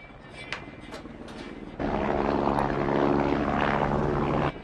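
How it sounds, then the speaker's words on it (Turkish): Helicopter roaring in loudly after a quieter opening, a dense, steady rotor and engine drone with a rhythmic low thrum that holds for several seconds before cutting off. "İşte bu helikopter."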